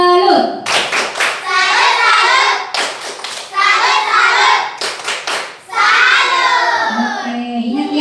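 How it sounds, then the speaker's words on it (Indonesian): Children clap a rhythmic group cheer for a fellow team, bursts of sharp claps in three waves with short gaps between them, loud and close, mixed with shouting young voices. "Tepuk salut untuk kelompok biru."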